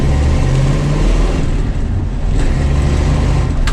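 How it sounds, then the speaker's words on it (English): A 1971 Dodge Challenger R/T engine under mild acceleration on a test drive, a loud, deep, rumbling exhaust drone that holds close and steady throughout, with no talking. "That's just a very, very mild acceleration."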